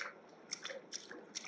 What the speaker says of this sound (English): Oh, I am walking on the water.